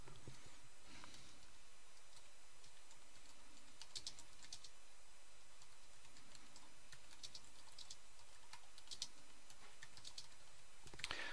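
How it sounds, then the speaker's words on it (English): Computer keyboard typing a short note in drafting software, a faint, steady patter of key clicks with a few sharper taps, recorded close over low background hiss. "So I type it in."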